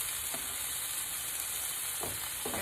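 Fish frying in a pan for tacos, a steady broadband sizzle with a few brief louder crackles or scrapes, close and alone without talk.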